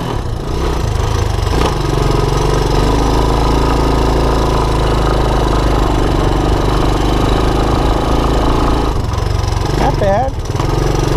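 A Honda ATC200ES Big Red ATV engine runs at a steady loud idle, close by, with a continuous low mechanical drone and a voice speaking briefly near the end.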